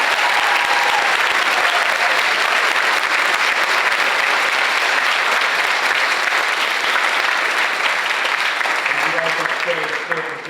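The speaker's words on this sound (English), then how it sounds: "Let's give them all another round of applause." An audience at a school Contio ceremony applauds in a loud, dense, sustained round of clapping that fills the space and fades near the end as a voice begins to speak.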